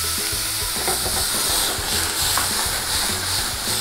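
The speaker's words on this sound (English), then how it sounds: "we're gonna deglaze the pan" Red wine hits a hot pan after searing filet mignon, setting off a loud continuous sizzle and hiss of steam that stays close and even throughout.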